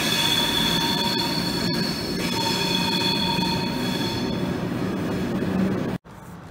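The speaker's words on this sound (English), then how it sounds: "And there goes one of the trains right there." A train rolls through Aachen station with a loud, steady rumble and sustained high wheel squeal, ending with a sharp cutoff.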